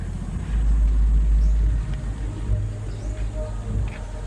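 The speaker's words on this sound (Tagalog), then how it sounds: "Motor dumaan dito." A motorcycle passes by on a rural road, its low engine rumble swelling loudly early on and then fading into a softer, uneven drone, with people talking faintly in the background.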